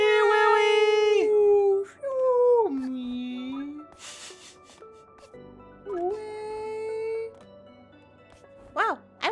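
A person's voice imitates a whale call with long, wavering moans that slide down in pitch, several drawn-out calls separated by short pauses and ending in a few squeaky rising yelps.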